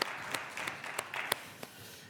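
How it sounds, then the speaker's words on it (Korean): Light, scattered clapping from a church congregation during a Sunday worship service, a handful of separate claps rising and fading over soft room noise. "우리 하나님께 영광의 박수 올려드리겠습니다"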